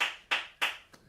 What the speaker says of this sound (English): even the second audience member decided to clap and wave her hands